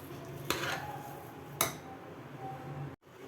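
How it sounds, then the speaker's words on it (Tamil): A metal spoon stirs ven pongal in a cooking pot, giving two sharp clinks against the pot about a second apart over a faint, quiet kitchen background. "நல்லா மிக்ஸ் பண்ணி விட்டுருக்கேன் வெண்பொங்கல்லாம் ஆட் பண்ணி நல்லா மிக்ஸ் பண்ணிகிட்ருக்கோம்"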